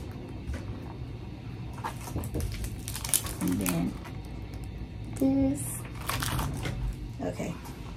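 Tissue paper crinkling and rustling during the unboxing of a luxury handbag, soft and close, in irregular bursts across the clip over a steady background hum.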